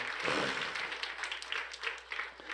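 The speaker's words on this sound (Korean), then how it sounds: "경조의 박수 한번 합시다" Dense clapping from a church congregation during a Sunday morning service, a steady wash of applause that holds fairly loud throughout, with faint voices mixed in.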